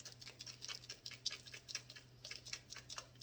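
Broken-up seasoning sprinkled over BBQ ribs gives a quick run of light, irregular patters and ticks, faint and close, with a steady low hum underneath.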